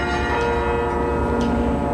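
Carillon bells ring out at Mafra Convent in Portugal, a dense, continuous wash of overlapping bell tones with steady sustained ringing throughout, played by a master carillonneur.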